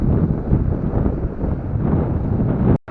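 Steady wind rushes and buffets the microphone in a constant low roar that cuts off abruptly near the end.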